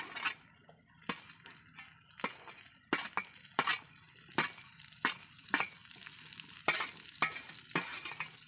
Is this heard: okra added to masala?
yes